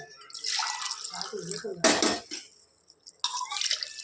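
Water poured from a cup onto rice in a pot for chicken biryani, a splashing, gurgling pour in two bursts with a short pause between, close and clear.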